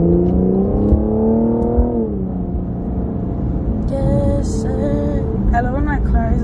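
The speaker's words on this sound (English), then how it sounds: "I love when my car is like extra loud for no reason." A car engine runs loud and steady throughout, a low constant rumble with a rising whine near the start and no one talking over it.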